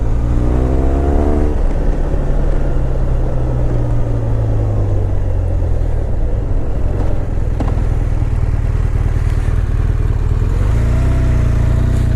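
A BMW R1200R motorcycle engine runs loud and close, its throttle blipped so the revs rise and fall several times over a constant idle rumble, with no talking.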